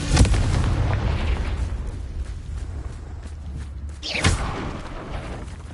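Confringo fire-blast spell in the Hogwarts Legacy video game, a sharp booming burst at the start followed by rumbling game ambience and a second whooshing blast near the end.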